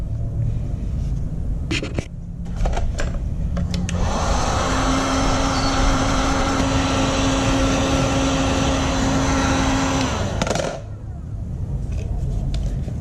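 A hot air gun heats PVC pipe for bending into a knife sheath, giving a loud steady blowing roar with a faint whine that runs for about six seconds, preceded and followed by handling clicks and low room rumble.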